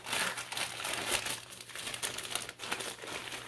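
Crinkling and tearing of a package being pulled open by hand, a rustling, scratchy burst of plastic and paper noise close by, continuous with small uneven peaks.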